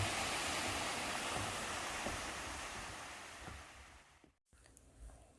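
Yeosin waterfall in Heullimgol, Seoraksan, pours through a deep, long rock channel with a steady rushing hiss and some wind noise, softening toward the end after a brief dropout.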